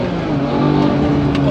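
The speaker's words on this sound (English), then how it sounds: "The downshifts on this thing are wonderful." A Porsche GT3 sports car engine blips loudly on downshifts, a close, steady rasping roar that swells briefly in the middle before settling.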